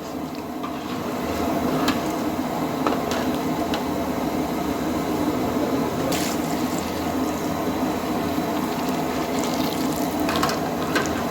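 A large pot holding 10 to 20 litres of water and milk at a rolling boil for coffee, a steady bubbling churn with scattered sharper pops and clinks over the whole stretch.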